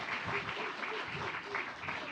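Audience applause welcoming a guest chef and culinary ambassador at a soybean food event, a steady patter of many hands clapping at moderate distance, faint in level.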